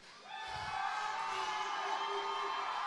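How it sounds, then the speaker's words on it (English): A crowd at a Hard Knocks Fighting event cheering and whooping, swelling quickly and holding as a loud, sustained roar. "Sounds like you got a couple fans in the crowd tonight cheering you on."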